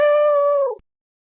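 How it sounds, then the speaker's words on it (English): A ginger cat gives a single clear, drawn-out meow lasting under a second, close and loud, then silence. "Cute ginger cat lying in bed under blanket."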